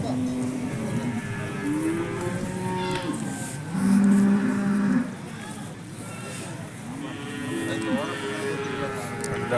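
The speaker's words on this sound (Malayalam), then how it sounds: "നല്ല അടിപൊളി കാളക്കുട്ടികളിതാ. അപ്പുറത്ത് നല്ല അടിപൊളി പോത്തുകളും." Bull calves and buffalo low loudly at a busy cattle market in Chattipparambu, Kerala, long drawn-out moos repeating over a constant crowd murmur and voices.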